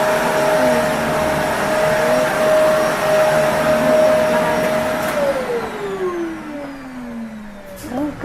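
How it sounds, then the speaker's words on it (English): A household vacuum cleaner runs with a steady, loud motor whine that holds its pitch, then drops lower as the motor winds down near the end. No one speaks. "my mom is vacuuming. That's one of them good vacuums too."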